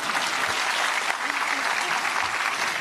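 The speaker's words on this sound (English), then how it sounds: "One more round of applause, please." Audience applause at an Arangetram classical dance debut, a continuous dense wash of clapping from a large hall audience, steady and even, with faint voices underneath.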